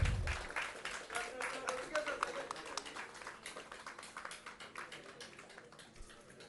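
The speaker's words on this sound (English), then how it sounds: "A bigger round of applause, please." Audience applause at a national conference of press clubs, a scattered patter of individual claps with some distinct sharp hits, fairly quiet, thinning gradually toward the end.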